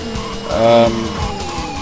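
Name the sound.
tyre screech in racing video game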